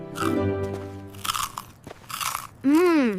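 A crunchy homemade cookie is bitten and chewed up close, with sharp crisp crunches breaking in clusters between stretches of a person speaking.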